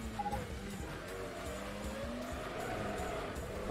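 Formula race car in the PS2 game Grand Prix Challenge accelerating hard, a steady rising engine whine with tire squeal, continuous and fairly close, lightly under crowd noise.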